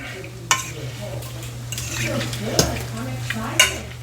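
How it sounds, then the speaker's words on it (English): Food being stirred in a sizzling pan, with a steady frying hiss throughout and a few sharp utensil clinks against the pan, close and fairly loud, no talking. "all I'm going to do is take this, mix it in there a little bit"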